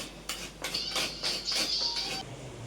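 Metal scraping against coconut flesh as coconut is grated for chutney in a home kitchen, a run of short rhythmic rasping strokes close by, with no talk.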